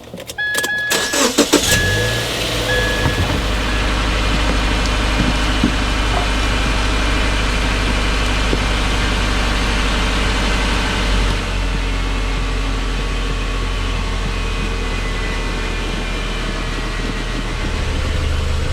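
A 2015 Subaru Impreza Sport engine starts and then idles steadily and loudly up close, a continuous low rumble with a brief clatter at the start and no talking.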